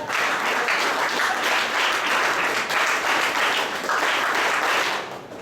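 A crowd applauds steadily and densely at a closing ceremony of a de-addiction camp, the clapping holding even for several seconds before tapering at the end.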